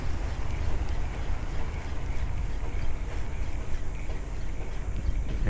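Steady low rumble of wind blowing against the microphone, constant and fairly loud, with a faint hiss above it and no talking.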